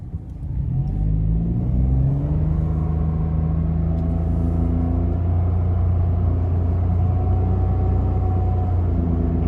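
2020 Mitsubishi Mirage hatchback with a 1.2-liter naturally aspirated inline 3-cylinder and CVT, heard from inside while driving; a steady, loud engine drone with a rising whine, no talk.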